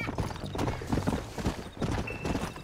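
Horse hooves clip-clop in Red Dead Redemption, a close, loud, uneven run of hoofbeats across the whole stretch with short gaps, no talking, and a faint tone near the end.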